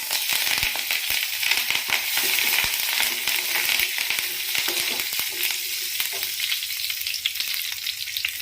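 Dried red chili pieces and curry leaves sizzling in hot oil as they temper, making a dense, steady crackle with many sharp pops close by and no voices.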